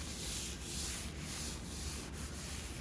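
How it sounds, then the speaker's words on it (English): Hand rubbing across the painted top of a 1964 Comet's quarter panel, a steady soft scuffing hiss that runs without pause, close and fairly quiet, with no voices. "as I rub this top of this quarter panel, you hear how smooth that is"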